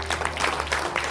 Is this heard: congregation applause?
yes